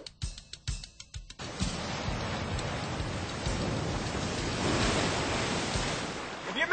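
Ocean surf rushes in as a broad, hissing wash that builds and fades steadily after a few brief knocks at the start, moderately faint throughout.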